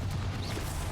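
Confringo spell explosion in Hogwarts Legacy on PC, a dense rumbling boom that fills the moment with low, loud roar and a faint whoosh on top.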